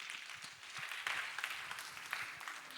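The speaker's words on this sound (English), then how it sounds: "please give a warm round of applause to Calle." Faint, distant audience applause at a talk on financial privacy as a human rights issue, a soft continuous wash of clapping with a few louder swells.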